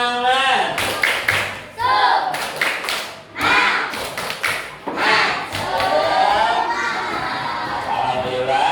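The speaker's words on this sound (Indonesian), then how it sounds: "Sebelumnya tepuk semangat." A classroom of children does a rhythmic spirit clap, loud patterned clapping bursts mixed with children's chanting and shouting voices in a lively room.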